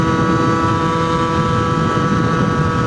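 A 70cc moped fitted with a Top kit engine cruises at light throttle, its steady, close engine drone holding an even pitch throughout, with some wind rush over the microphone.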